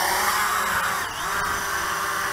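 An entry-level C-Fly Obtain aerial photo drone spins its motors up for an automatic takeoff, a loud steady high-pitched whine close by that wavers slightly midway, with no talking.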